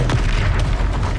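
A single short, heavy boom from the Confringo spell explosion in Hogwarts Legacy, loud and close, with a rumbling tail.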